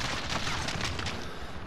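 Shotgun fire in a first-person shooter game comes as a dense, steady clatter of repeated shots and distant booms, fairly faint throughout.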